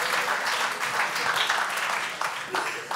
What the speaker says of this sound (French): Allez, on va applaudir Jean-Paul